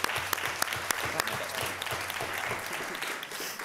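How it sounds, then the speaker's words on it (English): A room of people at a school board meeting applauds the parents, a steady round of clapping with a few sharper claps standing out, lasting throughout at moderate loudness. "a round of applause."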